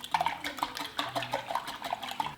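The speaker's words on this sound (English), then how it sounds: "In a medium bowl, thoroughly whisk the whole eggs, egg whites, vanilla, and almond extract." A whisk beats whole eggs, egg whites, vanilla and almond extract in a medium bowl for a Coraline Welcome Home cake, making quiet, rapid clinks and liquid slaps in a quick irregular rhythm.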